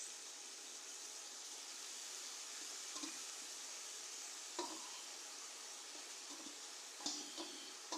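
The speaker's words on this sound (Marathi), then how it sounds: "व्यवस्थित 15 मिनिटं आपण असंच परतून घेऊया." Keema samosa filling with chopped fenugreek leaves sizzles steadily in a pan, with a few sharp scrapes and clinks of a spoon stirring near the end.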